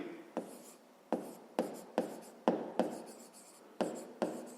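Pen writing on paper during a fifth-grade maths lesson, heard as eight quick, distinct scratching strokes in an uneven rhythm. Each stroke is close and fairly clear, with short pauses between them and no talking.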